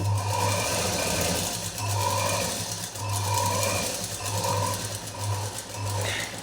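Sewing machine stitching a lined blouse in slow bursts, steady motor whir and rapid needle clatter starting and stopping about six times.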